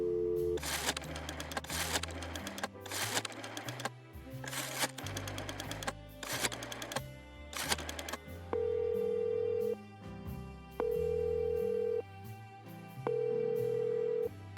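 A telephone being dialed in the game Chicken Police: rhythmic bursts of clattering rotary-dial clicks, then a steady ringing tone repeating in long even pulses with short gaps.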